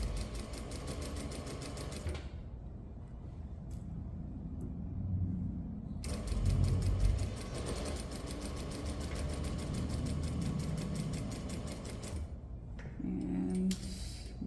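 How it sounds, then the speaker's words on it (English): A sewing machine stitches an exposed zipper seam, running in a steady, rapid, even rhythm for about two seconds, stopping briefly, then stitching again in a long continuous run before a pivot pause. "And one more stitch, right, and then I'll pivot, stitch the lower edge until I get to the other end"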